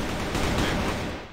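Gunshots fire in a shooter video game, a dense, loud burst of overlapping rapid shots that tails off at the end.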